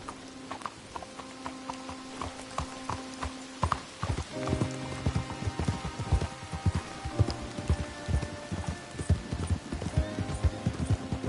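Horse hooves clip-clopping at a steady riding pace in the Red Dead Redemption II video game, rhythmic and close, layered over music and ambient game sounds, with no talking.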